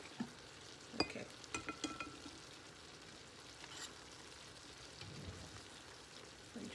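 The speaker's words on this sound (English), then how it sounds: "Okay, just stir all that together." A spoon stirs stuffed bell pepper filling with corn in a hot pan, giving a faint sizzle with scattered scraping clicks and taps. The sounds are close and quiet, and no one talks.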